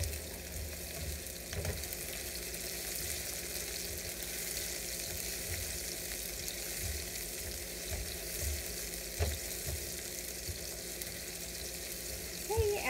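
Half a cup of onions frying in a pan toward golden brown, a steady soft sizzle with intermittent scrapes and stirring knocks throughout.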